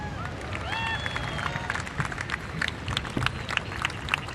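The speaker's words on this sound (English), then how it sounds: "Let's have another round of applause" A crowd applauds at the prize giving of a surf contest in Ericeira, Portugal, with steady, fairly distant clapping, scattered cheers and a murmur of voices blending into a continuous wash of noise.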